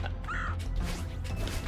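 A bird caws in the video game Celeste: a short, raspy call, close and fairly loud, over a low steady background hum.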